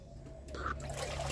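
Water is changed in an outdoor stone basin cluttered with debris, heard as a close, steady pour and splash of liquid that builds after a quiet moment with no speech.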